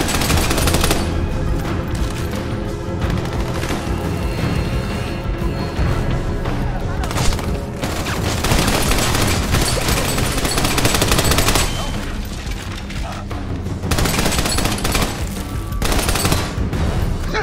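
Dense gunfire from the video game Army of Two: The Devil's Cartel, with rapid automatic bursts and booming blasts rolling almost continuously, loud and chaotic, while voices talk over the combat.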